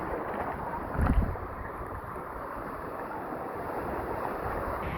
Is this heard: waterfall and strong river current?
yes